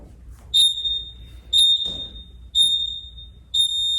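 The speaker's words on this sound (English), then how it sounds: "we're going to hear the beep in 10 seconds as well" Four loud, high-pitched electronic beeps sound about once per second in a steady rhythm, each ringing briefly, with no talking.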